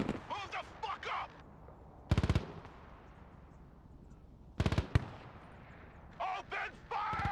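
Gunfire in the tactical RTS video game Broken Arrow comes in two sharp, loud bursts of rapid shots, with voices shouting before, between and after them.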